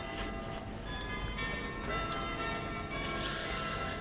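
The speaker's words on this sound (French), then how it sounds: "vous allez entendre les cloches sonner" Church bells ring steadily with sustained, overlapping tones, heard at a distance through a noisy outdoor street background in Beauvais, France.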